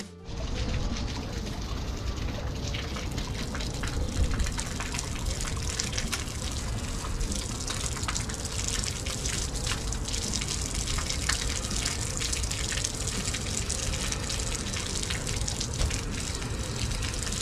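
Water gushes steadily out of a solar water heater boiler as it drains, a loud, continuous rushing flow that holds from start to end with no talk over it.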